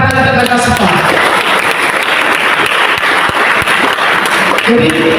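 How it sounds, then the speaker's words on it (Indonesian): Audience applause fills the room at a maritime polytechnic training event on an island, steady dense clapping throughout with a voice briefly audible at the start and end. "Tepuk tangan kita semua."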